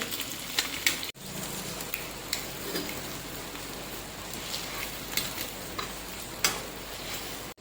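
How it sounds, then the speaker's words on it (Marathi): Boiled eggs sauté in a pan for egg curry, a soft, steady sizzle with occasional faint clicks of a spatula against the pan. "आपण एका साईडला सगळे अंडे ठेवायचे फक्त दोन मिनटात लगेच त्यांना परतून द्यायचे"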